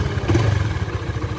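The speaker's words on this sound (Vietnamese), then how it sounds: "Tiếng máy chiếc xe này thì vẫn rất là êm," Engine of a Honda Sonic 150R manual-clutch motorcycle, nearly new, running steadily up close with a smooth, even low throb and no other sounds.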